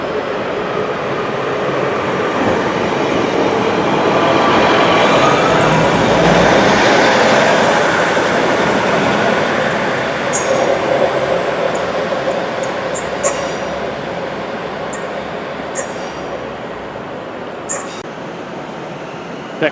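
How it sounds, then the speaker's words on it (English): Class 156 diesel train 156 444 arriving at a Liverpool station platform, a loud rumble that swells and fades slowly as it rolls in, with squeals and sharp clicks near the end. "Here comes 156 444 working the service to Manchester Road."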